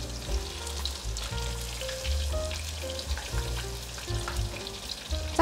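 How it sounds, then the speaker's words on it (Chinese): Eggplant pieces deep-fry in hot oil, turned constantly, with a close, busy sizzle and crackle broken by soft stirring knocks, steady throughout with no voices. "炸的时候要不停的翻动，我分2次炸，把茄子炸到表面微微的金黄色。"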